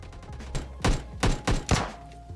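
Gunfire in PUBG Mobile Lite, a few heavy thumping shots spaced about a third of a second apart, deep and punchy over faint game ambience.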